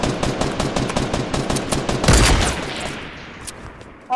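Rapid automatic gunfire in Fortnite, a dense rattling burst of shots through the first half, swelling around the middle, then thinning into scattered distant pops.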